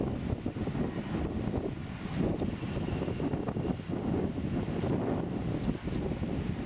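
Loud, constant wind buffeting the microphone, a low rumbling roar with gusty surges and no voices.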